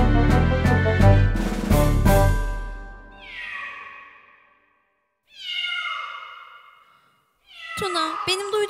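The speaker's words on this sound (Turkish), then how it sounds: "Sesi takip edip neler olduğuna bir bakalım. Şu kedilere bak." Cats in a children's song production meow in a series of drawn-out, downward-gliding cries, clear and close, following a burst of musical notes at the start, with pauses of silence between calls.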